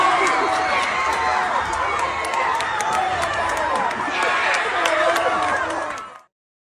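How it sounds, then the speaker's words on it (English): Movie theater audience screaming and cheering at the top of their lungs for the Chicken Jockey moment with Jack Black, a dense, loud roar of crowd voices and shouting sustained for about six seconds before cutting off abruptly. "audience members would film themselves saying the phrase, Chicken Jockey! Along with Jack Black before screaming and cheering at the top of their lungs"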